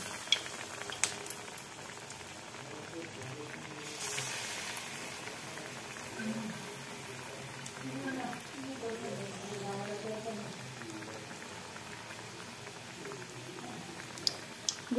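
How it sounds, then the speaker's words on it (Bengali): Batter-coated chicken pieces fry in hot oil, a steady, faint bubbling sizzle that continues throughout with occasional clatters and light handling noises nearby. "এবার আমি চিকেনটাকে ভাজা শুরু করলাম।"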